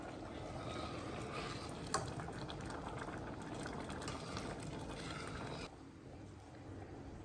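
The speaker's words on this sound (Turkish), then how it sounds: "İlk önce yarım su bardağı pirinci 2 su bardağı su ile bütün pirinçler suyunu çekip yumuşayıncaya kadar haşlıyoruz" Rice simmers in a pot of water for a baked Turkish rice pudding, half a cup of rice to two cups of water, giving a steady close hiss of rolling bubbles that softens slightly near the end.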